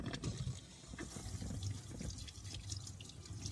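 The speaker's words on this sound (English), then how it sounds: "I need to just rinse my peppers." Tap water runs steadily while peppers are rinsed in a campervan sink, a faint continuous splash with light dripping and no voices.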